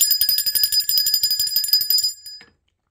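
A bicycle-style bell rung rapidly many times in a bright, metallic trill, close and loud, then stopping and fading into silence.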